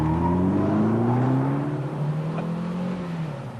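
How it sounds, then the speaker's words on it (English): An MG Montego Turbo accelerates hard from a standing start, its loud, close engine note climbing steadily in pitch with no voices over it. "Well, that was a quick start, Steve."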